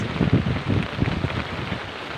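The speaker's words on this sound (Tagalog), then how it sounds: "Lakas ng ulan." Steady heavy rain pouring down during a typhoon in Cavite, Philippines, a dense broadband hiss with wind gusts swelling and easing throughout, no voices.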